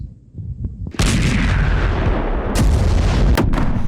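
Missile and artillery fire on Israel's northern border as Hezbollah targets an IDF post from Lebanon. A sudden loud blast gives way to a sustained roar, with further sharp bangs close behind.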